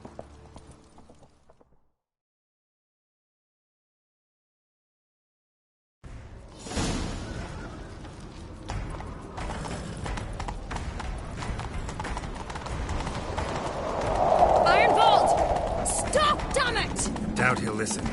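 Horse hooves clop rhythmically in the Witcher 3 video game, starting after a silent gap and continuing steadily at moderate loudness, with game sounds and voices mixed in.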